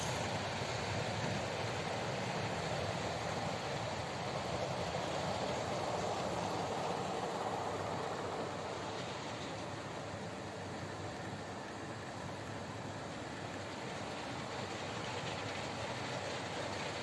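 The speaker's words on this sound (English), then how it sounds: "Lovely clean track, lots of fast trains." OO gauge model trains run steadily over freshly cleaned track, giving a soft, continuous rolling whir that stays faint and even throughout, with no voices.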